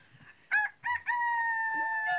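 A person vocally mimics a hen, giving two short clucking bursts followed by a long, drawn-out crowing call that trails off, loud and close.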